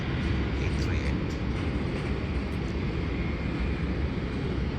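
A Qantas Boeing 737-838 arriving from Brisbane lands with a steady, close, low-pitched engine roar and rushing air that fill the whole stretch without letting up.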